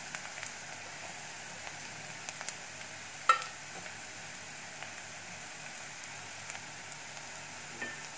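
Turmeric, coriander, red chilli powder, salt and sugar fry in oil with browned onions, giving a faint, steady sizzle with scattered soft crackles and one sharper tick, heard alone.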